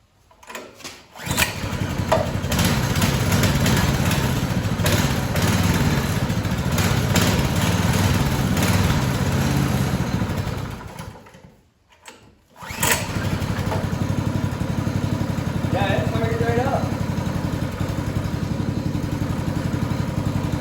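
A $175 Baja Warrior mini bike engine runs with a loud, close, steady small-engine putter, briefly dropping out around the middle before picking back up, no talking.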